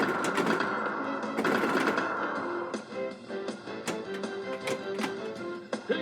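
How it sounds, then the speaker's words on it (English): Pop bumpers firing on a World Cup Soccer 94 pinball machine, a quick rattling burst of mechanical thwacks and clicks at moderate volume over steady machine hum, no talking. "All the pop bumpers are firing."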